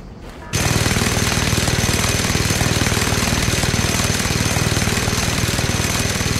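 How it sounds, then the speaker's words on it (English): Helicopter in the Just Cause 2 video game, a loud, steady rotor chop and engine roar that starts abruptly after half a second and pulses evenly to the end, close and dominant with no voices. "you better take care of the helicopter!"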